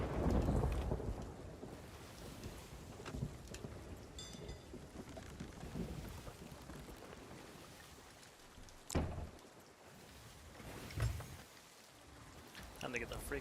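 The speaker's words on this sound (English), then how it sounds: "Time to get the freak out of this storm." A video-game thunderstorm mixes steady rain hiss with a few sharp thunder cracks and rumbles spread across the clip. The whole scene plays at a low level.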